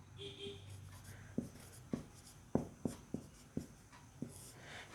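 Chalk or marker writing numbers on a board, heard as a series of about seven sharp taps and short strokes in an irregular rhythm, fairly close and quiet over a low room hum.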